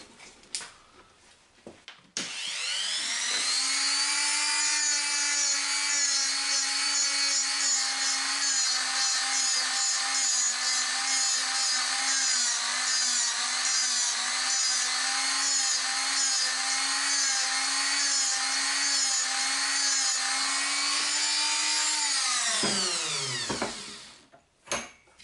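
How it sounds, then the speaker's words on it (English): A Dremel rotary tool from Woolworths sands radiused corners on a wooden workpiece, spinning up to a loud, steady high-pitched whine with grinding for about twenty seconds before winding down, close and alone. "I'm just using the good old Woolies Dremel and just eyesighting the radiuses on the corner"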